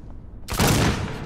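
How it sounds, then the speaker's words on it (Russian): A sudden loud burst of gunfire in the video game Alien Isolation cuts in after near silence and rings out as a dense, sustained blast for under a second before fading. "Ты же слышал выстрелы?"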